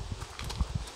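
A horse's hooves clip-clop close by in a short run of uneven soft thuds on a rural property, with faint ambient noise.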